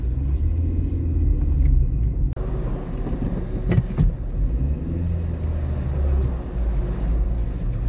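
A car drives through traffic, its engine and road noise a steady low rumble heard from inside, broken by a brief thump partway through, with no talking.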